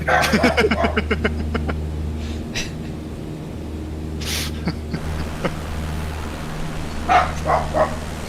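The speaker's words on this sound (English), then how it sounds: "Is there a dog on the ground? I can hear it." A dog gives a quick run of barks at the start, then a few scattered yips and snorts follow over the constant low hum of a Cessna 152 engine in a flight simulator.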